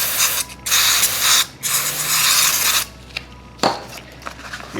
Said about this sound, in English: I'm going to put some brake cleaner on here